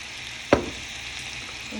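Syrup for candied yams is stirred in a pot, with a single sharp clink of a utensil against the pot over a soft, steady background hiss.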